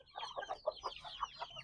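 Livorno and bantam chickens cluck in a quick run of short, nasal calls, about eight in under two seconds, fairly close with no talking over them.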